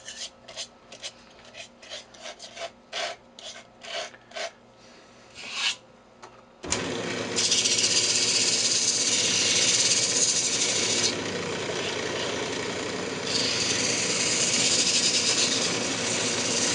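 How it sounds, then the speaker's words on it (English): A wood-turned hot plate frame is sanded on a lathe. Several short, separate rasps lead into a loud, steady, close abrasive hiss that runs without a break to the end. "Let's just go ahead and sand it"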